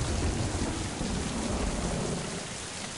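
Heavy rain in the puzzle game Mind: Path to Thalamus pours down in a dense, constant hiss with low rumbling underneath, loud and unbroken throughout.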